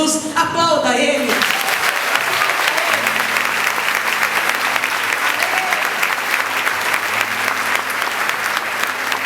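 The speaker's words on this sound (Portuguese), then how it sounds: "aplauda Ele" A church audience breaks into loud, sustained applause that fills the hall with dense, continuous clapping and some crowd noise, following a moment of speech at the start.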